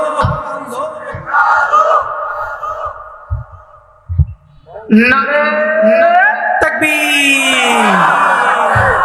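At a large Islamic religious gathering in Kurigram, a leader's call is answered by a big crowd shouting the takbir response together. The voices are loud and close, swelling into sustained chanting after shorter calls and pauses.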